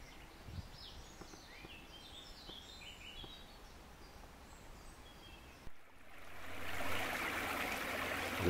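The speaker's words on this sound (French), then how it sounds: "Le ruisseau, les oiseaux." Faint birdsong chirps and trills over a soft, steady trickle of running water, then the flowing stream grows louder and brighter toward the end.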